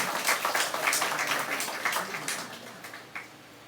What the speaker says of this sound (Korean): 박수를 주님에게 드리시기 바랍니다.